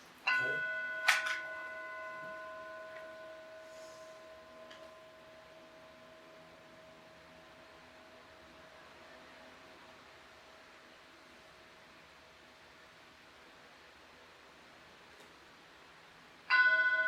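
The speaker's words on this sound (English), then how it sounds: "feel the presence of this gong, the sound of the gong" A gong at a Buddhist meditation retreat is struck once, its ringing tone swelling and then slowly fading over many seconds into near silence, before a second strike rings out at the very end.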